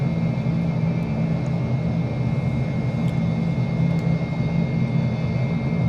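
A steady, unbroken jet engine whine and rumble as an F-35 taxis in Microsoft Flight Simulator, a constant hum at even loudness with no talk.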